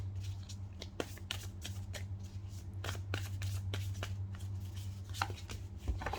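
Tarot cards being shuffled and handled, a continuous close riffling and slapping of cards over a low steady hum.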